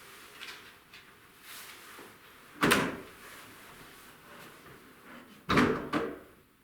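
A wooden door creaks as it rubs against wood, with two sharper knocking bursts about three seconds apart over a quiet background and no talk.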